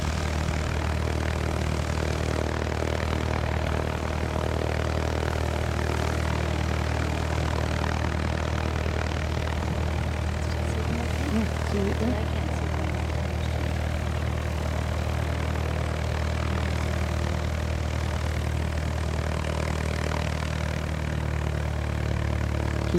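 A propeller aircraft taxies toward the runway, its engine droning steadily and loudly close by for the whole stretch, with a constant low hum and no pauses or talk.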